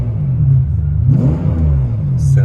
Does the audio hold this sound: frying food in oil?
no